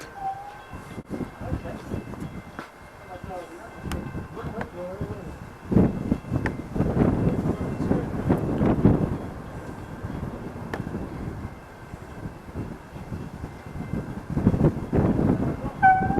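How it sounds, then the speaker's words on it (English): A train rumbles past at a distance, a low rolling roar that swells and fades, with people talking over it. "I think there's a train coming."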